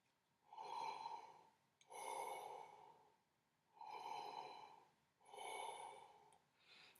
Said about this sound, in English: this is what this sounds like when you're breathing